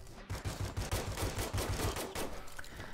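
A Gatling gun in the Wild West shooter Hopalong: The Badlands fires a fast, steady stream of booming shots in an unbroken burst lasting a few seconds.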